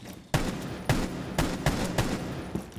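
Gunfire in the video game Rainbow Six Siege, several loud shots or short bursts spaced roughly half a second apart, sharp and close over a continuous noisy background with no speech.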